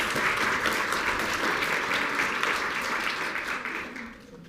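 Steady, dense applause from an audience at a Battle of the Books competition, honoring a team, sustained loud clapping that fades out near the end.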